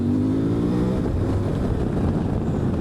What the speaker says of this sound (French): on accélère en grand comme ça là